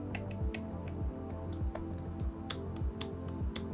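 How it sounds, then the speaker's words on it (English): Typing on an Apple Magic Keyboard with a MacBook Air M1, a run of light, crisp key clicks in an uneven rhythm, close and fairly quiet, with no speech. "the Magic Keyboard provides a much better typing experience."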